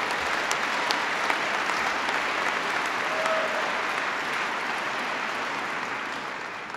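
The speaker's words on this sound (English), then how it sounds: "Give them a big round of applause." An audience in Denver applauds at the 2009 Recovery Act signing with President Obama. Steady, even clapping from a large crowd holds at a constant level throughout, with no voices rising above it.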